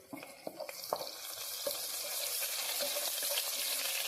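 Beef kurma with ground coconut frying in a pan and being stirred on raised heat, a steady sizzle with scraping clinks of the spoon early on, close and continuous without talk.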